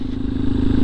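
Yamaha Tricker motorcycle engine idling steadily after a spark plug change, a close, loud, even low-pitched drone with a slight clatter, swelling a little toward the end.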